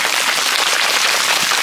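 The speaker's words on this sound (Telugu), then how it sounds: "గట్టిగా క్లాస్ బ్రహ్మర్షి పితామహ పత్రిజీ గట్టిగా." A seated audience of students at a meditation gathering applauding, dense loud clapping from many hands filling the whole moment evenly, close and sustained with no voices over it.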